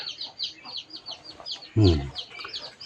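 Repeated soft clucking from a mother hen calling her chicks runs throughout at a steady pace, with a brief louder low burst near the middle, fairly close and moderate in volume.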